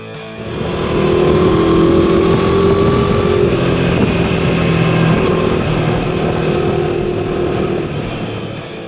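A Moto Morini X-Cape 650 motorcycle engine droning steadily while riding through curves, with the pitch rising and easing slightly and wind rushing past the microphone, loud and continuous.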